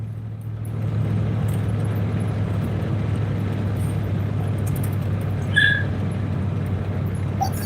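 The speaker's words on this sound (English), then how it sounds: "Slow down in the school bus up ahead, turning real slow, get out of the way." School bus driving slowly and turning, a steady low engine drone heard from close by throughout, with a brief brake squeal partway through.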